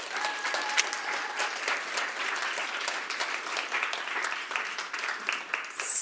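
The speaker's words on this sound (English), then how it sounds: "Just a big round of applause for them." An audience at a sustainable fashion panel gives a round of applause, dense and sustained clapping from a crowd that fills the room at an even level throughout.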